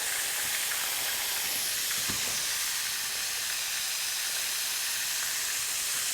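Bread rolls toasting in butter on a hot firehouse kitchen pan or griddle give a steady, even sizzle and hiss that holds at a constant level throughout, with no voices.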